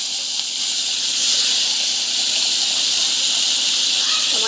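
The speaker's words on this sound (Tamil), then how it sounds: "டமாட்டோ ஆட் பண்ணி நல்லா வந்து இதில் வந்து வதக்கிக்கலாம்" Tomato sautés in hot oil in a pan for a puffed rice dish, a steady bright sizzling hiss that holds evenly throughout at close range.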